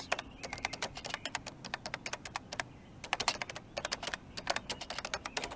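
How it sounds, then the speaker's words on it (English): Rapid bursts of clicky typing on a Canon Typestar thermal typewriter, keys clacking in quick runs with short pauses between, close and crisp with no voices. "the sound of the keyboard, in my opinion at least, is quite nice."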